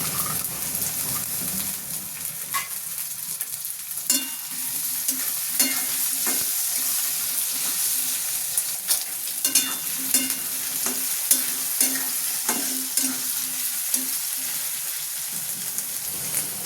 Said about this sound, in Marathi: पाच मिनिटं बटाटे परतून घेते आणि नंतर वाटाणे टाकते